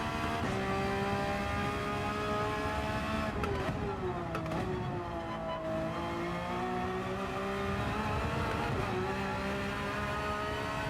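Porsche race car in Gran Turismo 7, engine droning steadily with harmonic tones that dip and rise through gear shifts, loud and continuous with no voices.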